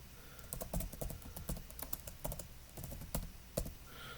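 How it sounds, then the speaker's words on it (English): Irregular clicks of keys on a computer keyboard tap out short bursts of typing, close and fairly quiet, with no talking. "I'll type it in."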